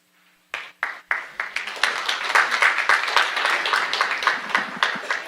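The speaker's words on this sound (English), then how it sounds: "Chair Laredo, the applause was initially so underwhelming." Audience applause at a board of trustees meeting: a few sharp, separate claps at first, then the clapping quickly swells into steady, dense applause from a crowd that carries on to the end.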